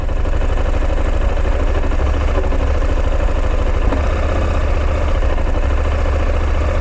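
A 2023 KTM 890 Adventure parallel-twin engine idles on just one cylinder with the throttle cracked slightly open, a loud, close, uneven low rumble running continuously.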